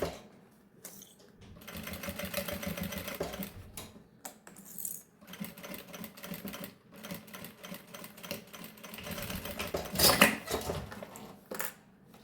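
A sewing machine runs in steady bursts while stitching a seam on a baby's nécessaire, with a short backstitch at the start. The close motor hum pauses briefly between runs, and a sharper rattle follows near the end.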